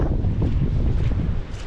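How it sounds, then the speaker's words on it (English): Strong coastal wind buffeting the microphone on a cliff-top walk between Bude and Crackington Haven, a loud continuous low roar with gusty surges and no talking. "Coastal wind currents are not something to be messed with."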